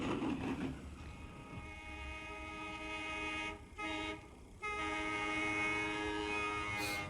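A 1941 Indiana interurban electric high-speed car rumbles across the Anderson bridge with a steady mechanical hum and sustained whining tones, briefly dipping before resuming at full strength.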